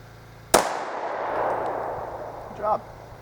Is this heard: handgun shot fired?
yes